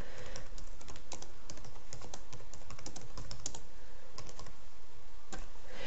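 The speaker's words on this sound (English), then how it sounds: "you can type a message in this bottom box here" Typing a message on a computer keyboard, a steady run of close, crisp key clicks with short pauses between bursts.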